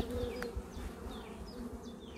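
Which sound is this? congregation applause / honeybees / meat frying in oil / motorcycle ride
honeybees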